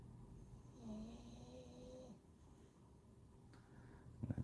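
A dog snores nearby in a quiet room, with a couple of drawn-out, low rasping breaths followed by softer breathing and a few brief knocks near the end.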